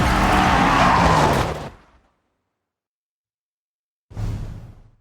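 Car in Forza Horizon 6 braking hard to a full stop: a loud tire skid and rush that cuts off into silence, followed by a shorter burst of engine and road noise.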